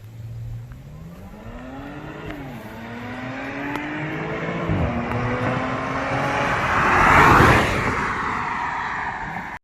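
A supercharged V6 Audi S5 with 333 horsepower accelerates hard, its engine note climbing steadily through several gear changes, each marked by a brief dip before rising again, then roaring loudly as it passes close by.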